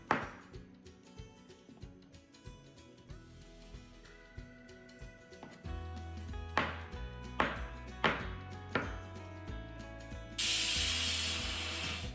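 Knife chopping pineapple and other salad and dessert ingredients in a home kitchen: a series of sharp, close cutting knocks on a board, sparse at first and then in a steady run over soft music, ending in a brief hiss.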